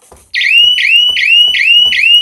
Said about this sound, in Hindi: अगर घर में कोई घुसता है तो अलार्म इतना तेज बजता है